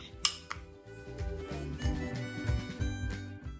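Chamoy candy being mixed with tajin seasoning, with two sharp clinks at the start and then soft rattling and scraping under background music.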